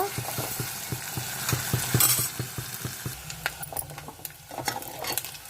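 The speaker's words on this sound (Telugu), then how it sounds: "ఎప్పుడైనా సరే ఎండు చేపలు బాగా వేయించుకోవాలి ఆయిల్లో" Dried fish fry in hot oil with a steady crackling sizzle, while a utensil clicks and scrapes against the pan in a quick, regular stirring rhythm that thins out toward the end.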